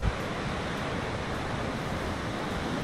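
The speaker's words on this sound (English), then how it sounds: "Winter brings a different energy to the coast, big seas, rougher waves, and rare surf moments" Rough winter Atlantic waves on the Algarve coast near Albufeira make a steady, dense wash of surf noise with no breaks, moderately loud and unbroken throughout.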